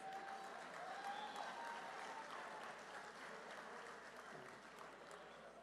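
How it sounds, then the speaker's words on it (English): Gala dinner audience applauding the chef and wait staff, a steady wash of clapping that holds fairly even throughout, heard from within the room at moderate volume. "A round of applause to the chef and the wait staff"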